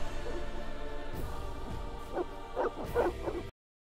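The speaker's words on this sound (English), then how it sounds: "They're evil dogs." Evil dogs in The Witcher video game bark and yip in a cluster of short, sharp bursts rising over a dense game soundscape, growing louder toward the end before the sound cuts off abruptly.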